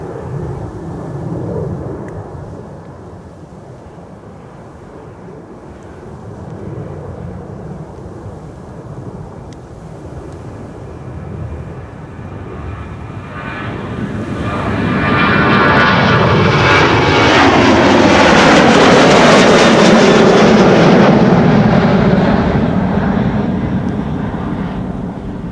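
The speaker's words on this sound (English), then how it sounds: "The Ryanair to Dublin is rolling, coming this way." A Ryanair jet bound for Dublin rolls for takeoff at Amsterdam Schiphol, its engine roar building from a distant rumble into a loud, broad, sustained swell with a falling whine.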